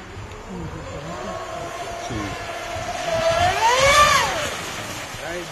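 A car accelerating on a test drive, engine tone rising and swelling louder toward the end as it revs up, heard from inside with a continuous rumble and no clear talk.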